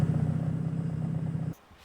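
A Honda CRX engine idles high with a steady, close rumbling drone that cuts off abruptly near the end, leaving quiet.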